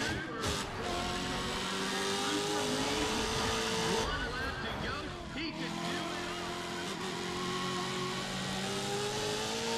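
A Saleen S7 supercar's engine roars under nitro boost in the racing game NFS Pro Street, a steady, loud high-revving drone with shifting pitch and brief abrupt changes, while someone talks over it.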